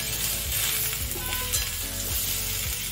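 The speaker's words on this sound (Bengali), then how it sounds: "দেখুন মিনিট খানে কিন্তু আমি ভাজছি এটা, এর বেশি আর ভাজবো না" Flat beans (sem) fry in a pan with very little oil, giving a close, steady sizzle and crackle throughout, with a few faint clinks.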